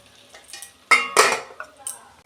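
A spoon scrapes and clinks against a pan while cauliflower curry with spices is stirred, in a few short bursts with quiet gaps between them.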